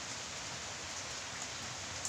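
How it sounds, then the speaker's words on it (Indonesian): Light drizzle falls as a steady, even hiss of rain on surfaces, continuous and close, with no voices. "hujan yang rintik-rintik seperti ini"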